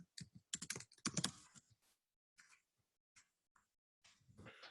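Someone typing a question on a computer keyboard: irregular clusters of close, sharp keystrokes with short pauses between bursts in a quiet room.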